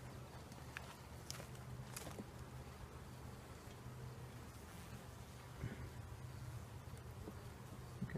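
Bees buzz steadily around an open hive as a box is added to a new colony, a continuous close insect drone with a few louder passes near the microphone.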